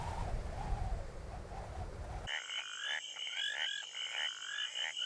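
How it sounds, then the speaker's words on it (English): Frogs and toads croak in a dense chorus, a steady layered calling that fills the scene, with a low rumbling wash underneath at first before the croaking stands out clearly on its own. "frogs and toads, who are reputed to croak louder before rainfall"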